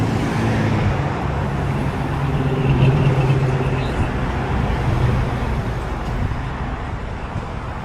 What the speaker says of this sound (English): A typical afternoon day of traffic in Ormond Beach